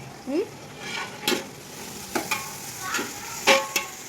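Food sizzles quietly in a pan while a utensil stirs and scrapes salted ingredients for pulao rice in a few separate strokes, with no talking.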